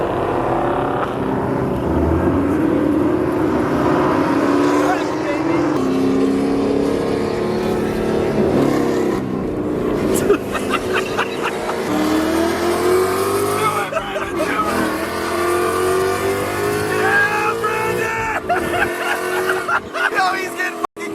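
Ford Mustang Dark Horse V8 revving hard and downshifting near an embankment, with rising and falling engine pitch throughout, loud and close, under excited shouting voices.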